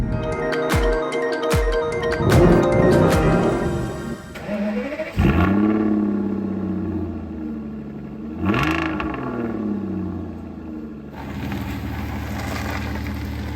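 A 2009 Aston Martin DB9 engine revs hard, with sharp blips and rising roars followed by deep falling notes, then another surge and a sustained growl near the end, loud and close.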